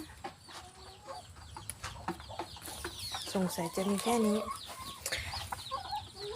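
Chickens cluck and call nearby in a steady stream of short, rising notes, with people chatting over them.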